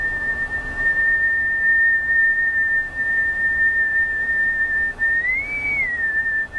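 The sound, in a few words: pucker whistle, a pure tone whistled through the lips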